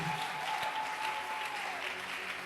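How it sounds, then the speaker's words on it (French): A church congregation applauds and cheers loudly in praise of the Lord, with steady, dense clapping throughout and some voices rising above it. "il va acclamer très fort le Seigneur"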